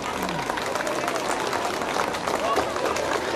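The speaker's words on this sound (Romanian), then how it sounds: "Vă rog să-i aplaudați." A school audience applauds a first-grade class and its teacher, a dense spread of clapping filling the room at close range while a voice speaks over it.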